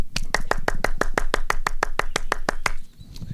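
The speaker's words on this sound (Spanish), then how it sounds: "Ahí sí yo les doy un aplauso." A preacher at a men's prayer meeting claps alone, about sixteen sharp, evenly spaced claps in a quick steady rhythm that stop abruptly near the end.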